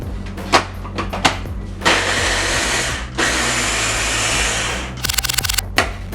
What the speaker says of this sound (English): The machine will chop it up.